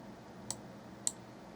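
Two sharp, quiet mouse clicks about half a second apart while clicking Next during a Windows 64-bit operating system setup, over faint room hiss.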